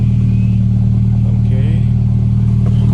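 A 2015 Mercedes CLA 250 4matic with its exhaust not fitted runs loud and close, a heavy droning idle with a deep steady rumble, while people talk briefly over it.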